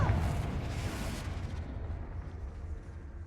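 Confringo blasting spell in Hogwarts Legacy goes off as a loud booming explosion at the start, then decays into a rumbling, fading roar with no voices.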